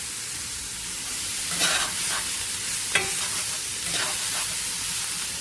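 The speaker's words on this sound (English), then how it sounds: "when you're caramelizing onions, you don't want to keep like full heat all the time" Chopped onions caramelizing in oil in a pan, giving a steady, moderate sizzle broken by a few spatula scrapes and stirring strokes, with no voices.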